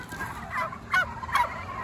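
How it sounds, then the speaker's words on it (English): Turkeys on a farm call out in a few short, close honking bursts, three quick squawky gobbling calls spaced across a brief moment. "There's the turkeys."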